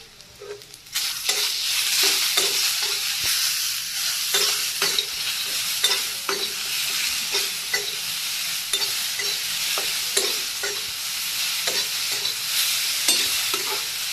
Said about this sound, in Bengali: অলরেডি সবজিতে সব কিছু দেওয়া শেষ, এখন ভাজার পালা